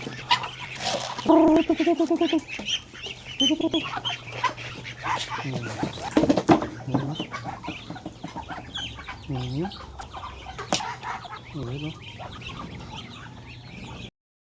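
Ducks and poultry calling in a rural yard, with bursts of harsh clucking and quacking honks, along with some voices nearby and steady background noise.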